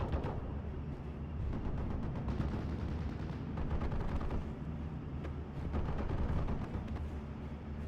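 Dense, continuous automatic fire from two machine guns in a WWII strategy game, rapid crackling bursts layered over heavy battle rumble, loud and sustained with no pauses.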